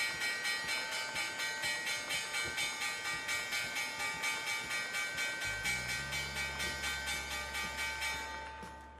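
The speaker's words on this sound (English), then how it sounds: "There's the bell." Stock market opening bell at the start of a live day-trading session, a rapid, steady, evenly spaced ringing that goes on for about nine seconds, joined by a low tone partway through and fading at the end.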